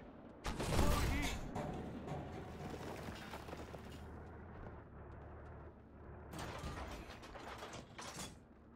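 Tank gun being loaded with a HEAT shell in a T-54 video game, heavy mechanical clanks and ratcheting clatter with a sharp metallic slam near the start and another burst toward the end, over low engine rumble.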